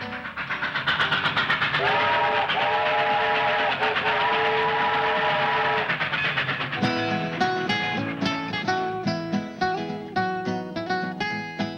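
Railway train with a steam whistle, a loud sustained whistle blast over rumbling wheels, then rhythmic clattering chugging and clanking as the train rolls past close by, with no voices.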